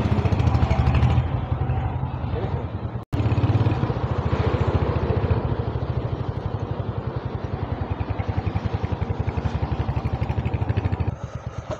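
A Royal Enfield Hunter 350 motorcycle runs with a steady thumping single-cylinder pulse and a light mechanical clatter, recorded while riding, with a brief dropout near the start and a fairly even level throughout.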